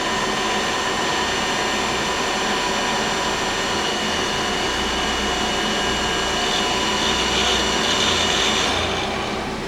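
The spindle of a new 2011 Feeler HT-30Y CNC turning center runs at high RPM, a loud, steady whine with a constant drone that holds throughout.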